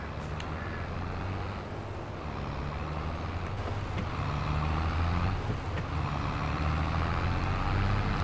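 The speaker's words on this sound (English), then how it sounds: "Love driving these tractors." A farm tractor in Farming Simulator 22 drives steadily with a loud, continuous low engine drone, shifting through its gears as the pitch steps up and down, with no talking.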